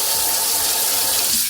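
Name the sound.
water running from a tap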